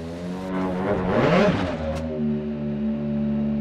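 A Hyundai rally car in a video game launches off the start line of the first special stage of Rally Sweden in Värmland, its engine revving hard and rising in pitch before settling into a steady, loud drone, with no talk.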